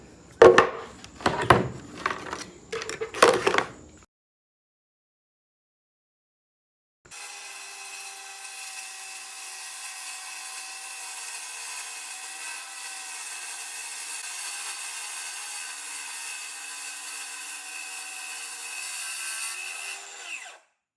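A DeWALT 20V cordless circular saw, model DCS570B with electric brake, first rips through wood in short loud bursts, then after a silent pause runs in a long, steady, moderately loud cut lasting over ten seconds.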